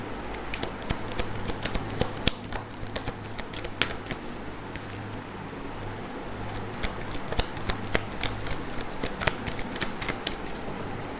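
Tarot cards being shuffled and drawn by hand, a close, soft crisp riffling with repeated sharp flicks and snaps of cards over a low steady hum, no speech.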